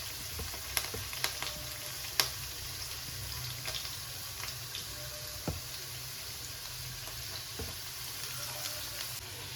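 Onions, curry leaves and green chillies fry in a pan for an amaranth-stem palya, with a steady, close hiss of sizzling oil, scattered light crackles and occasional utensil taps, no talk.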